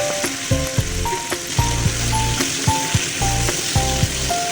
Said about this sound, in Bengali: এর মধ্যে আমি কুচিয়ে রাখা পটলগুলো দিয়ে দিলাম।